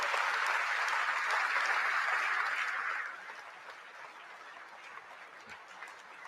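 A large crowd gives sustained applause to welcome Prime Minister Modi at the INS Vikrant commissioning ceremony in Kochi, loud and dense for about three seconds, then thinning to a softer spread of clapping.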